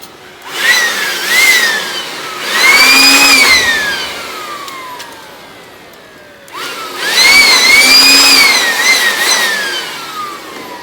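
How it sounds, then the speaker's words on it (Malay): A loud vacuum cleaner whines close by while cleaning the arc chutes of an air circuit breaker in a main switchboard, its motor pitch rising and falling in two long sweeps with a dip between them. "dan seterusnya kita cuci arka menggunakan vacuum."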